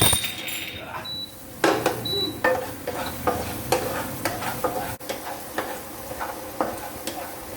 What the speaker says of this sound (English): Fresh oil, and time to add some garlic.